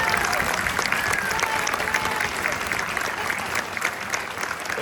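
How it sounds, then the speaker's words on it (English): Sustained, dense applause fills a high school concert hall for Valley Honor Band students, a steady, even wash of many hands clapping that stays loud throughout, with faint crowd murmur underneath. "So if you would give them a round of applause."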